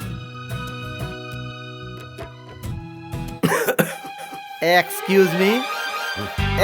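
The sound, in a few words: person coughing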